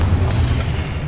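A Confringo explosion spell in Hogwarts Legacy bursts as a deep, dense boom that fills the whole short moment at steady loudness, with no voice over it.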